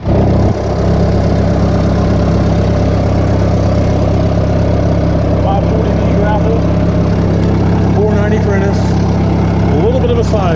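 Skidder engine running steadily while being loaded onto a trailer, a loud, close, constant diesel drone with low rumble, with faint squeals and clanks near the end.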